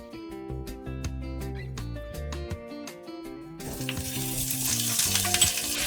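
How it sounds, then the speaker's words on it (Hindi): Cumin, green chilies and grated ginger hit hot ghee, and a steady crackling sizzle swells in the second half over background music. "जीरा जब तिड़कने लगेगा उसके बाद इसमें डालूंगी ग्रीन चिलीज और जिंजर"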